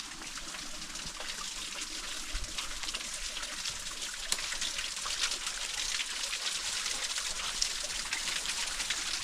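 A spring trickles inside a cave at the source of Doodh Ganga in Almora, Uttarakhand, giving a steady, soft hiss of running water that stays even throughout, with faint background sounds and no talking.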